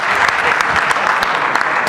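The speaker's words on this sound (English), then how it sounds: "give him a round of applause." An audience at a speech event claps together in a brisk, even burst of applause, close and full with many hands.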